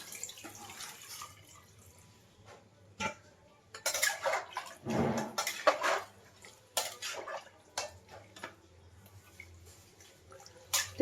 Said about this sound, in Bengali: আর একটু জল দিতে হবে তো আর একটু জল দিয়ে দিলাম তো